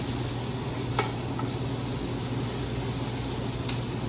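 Pork tenderloin sears in a hot pan with a steady, even sizzle that holds throughout, broken only by a couple of faint clicks.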